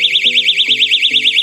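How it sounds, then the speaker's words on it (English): A doorstop security alarm wedged under a door sounds a loud, continuous warbling siren that rises and falls rapidly and evenly, with a few low mechanical clunks beneath it. "you put this Doorstop underneath the door, ever so slightly, press it down, and then it's got an alarm on it that sounds"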